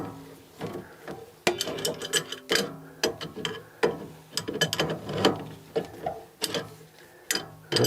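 A wrench loosening a plumbing union fitting on a Seisco 28KW tankless water heater gives sharp metallic clicks and clanks in irregular bursts, close by, with short pauses between turns.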